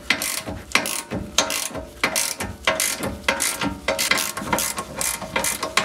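A screw is turned while fitting the rear shock absorber of a 2011 Audi A4 B8 3.0 L V6. Rapid, loud ratcheting clicks repeat steadily and close up throughout, with no speech.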